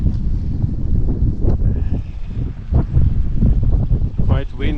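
Gusty wind on a mountain hike near Lunndörren buffets the microphone with loud low rumbling roars that rise and fall in waves, heavy and close throughout, with a voice briefly audible.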